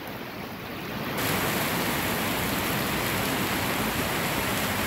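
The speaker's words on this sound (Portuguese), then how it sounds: "Mais uma chuva em Guajará-Mirim." A passing rain shower in Guajará-Mirim, Rondônia, at the end of the rainy season, heard as a steady dense hiss of rainfall that swells and stays loud and even throughout.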